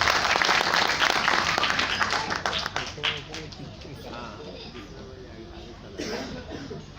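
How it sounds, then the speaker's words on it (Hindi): Audience applause at a speech by a community association president at a Magahi conference in Kolkata: a burst of clapping that fades gradually, with voices talking and murmuring in the crowd. "एक बार जोरदार हाथ ताली देकर"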